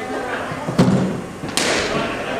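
A ball is struck hard with a sharp, heavy thud, followed by a second impact moments later, under crowd noise and commentary.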